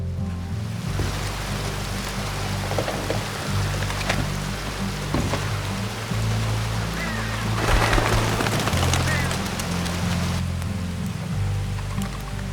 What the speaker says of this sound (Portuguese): vou correr até a varanda da pensão pra eu esperar a chuva passar.